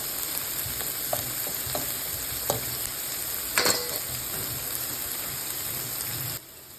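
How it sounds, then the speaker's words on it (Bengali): Chopped onion fries in oil with turmeric, chili, coriander and cumin powder for a shrimp bhuna, a dense steady sizzle like light rain, with a few soft spatula taps and one brief louder crackle, before it cuts off abruptly. "পেঁয়াজ কুচিটা একটুখানি ভেজে নিলাম তেলের মধ্যে, হালকা ব্রাউন হয়ে এসেছে"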